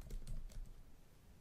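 A few quick keystrokes tap on a computer keyboard, close and soft. Then the tapping gives way to a quiet room tone.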